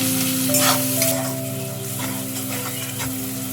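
Turmeric, red chili powder and salt fry over a low flame for egg posto, a close steady sizzle broken by scraping strokes of a spatula across the pan, with a faint hum underneath.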